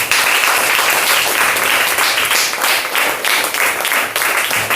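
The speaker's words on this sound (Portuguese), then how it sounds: "Eu queria que a igreja aplaudisse." A church congregation at a healing service claps in sustained, dense applause, a loud and even wash of many hands that rises and dips slightly without stopping.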